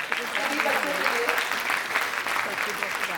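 An audience at a Hindi award ceremony applauds a group of schoolchildren with loud, dense, continuous clapping that fills the whole stretch at an even level.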